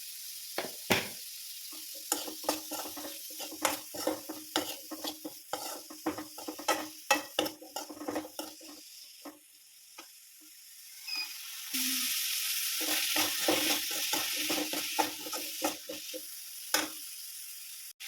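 Onions with salt are sautéed and stirred in a pan, a steady close sizzle broken by repeated scraping stirs of a spoon, with a louder hissing stretch near the end.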